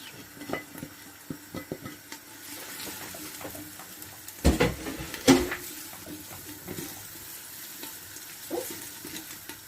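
Spices frying with onions for black chana make a low, steady sizzle broken by scattered clicks of stirring, with two louder knocking scrapes in the middle.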